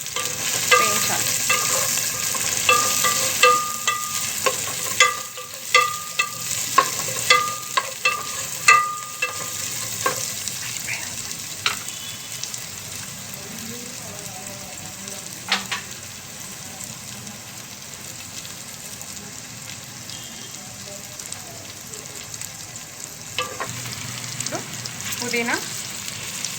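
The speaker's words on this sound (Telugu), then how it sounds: "ఇప్పుడు ఆనియన్స్, పచ్చిమిరపకాయలు అన్నీ వేసుకొని గోల్డెన్ బ్రౌన్ వచ్చేదాకా" Chopped onions and green chilies fry in hot oil for an egg biryani, giving a steady sizzle with frequent stirring clatters and scrapes, loud at first and then softer.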